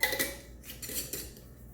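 A lid goes onto a glass mason jar holding cream, vanilla and Oreos, giving a few close, quick metallic clinks and scrapes in a short burst.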